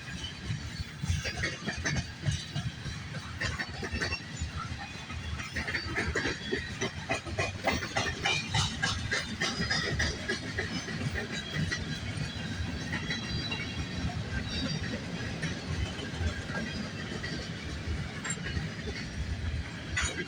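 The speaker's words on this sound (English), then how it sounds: "A lot of flat cars on this one. It is a big train, I guess." Long night freight train with many flat cars and auto racks rolling steadily past, a continuous loud rumble of wheels and rail clatter with hissing and occasional faint squeal, no talking.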